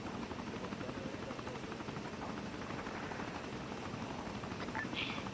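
Military helicopter flying in the Arma 3 video game, a steady, loud rotor thrum with rhythmic chopping that runs the whole time, with voices talking over it.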